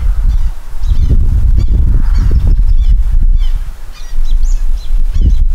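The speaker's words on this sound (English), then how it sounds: "We have some hawks flying around here, and they are very noisy." Several loud, harsh bird calls from hawks flying over a cemetery, repeated in close irregular bursts against outdoor background noise.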